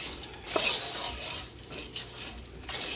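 A spoon stirs bread stuffing with onions and celery in a pot, giving a soft, close, wet scraping and rustling with a couple of louder scrapes against the pot.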